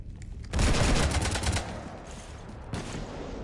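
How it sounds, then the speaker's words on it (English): Heavy automatic gunfire rakes a ship in the sci-fi shooter Mass Effect 3, a loud dense burst of rapid shots that tapers into lighter sporadic fire and then flares up again. "You want to stop shooting up my ship?"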